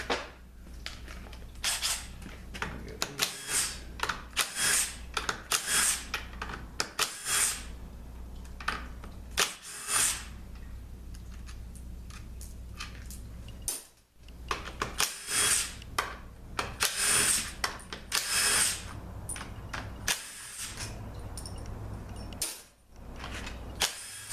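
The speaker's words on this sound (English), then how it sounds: "now we're going to get the valve body bolts out, 10 millimeter" A power tool zips out 10 mm valve body bolts on a Toyota U151 transmission in bursts of whirring and ratcheting, short runs separated by pauses and clicks, fairly close.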